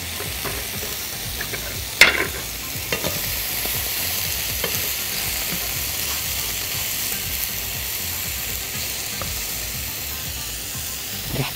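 Lentil salad ingredients are stirred quickly in a hot pan, making a soft, steady sizzle and frying hiss with a sharp scrape near the start. No one speaks over it.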